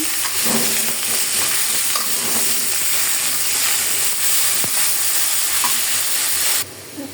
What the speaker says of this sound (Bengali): এদিকে মাছও বাজা হয়ে যাচ্ছে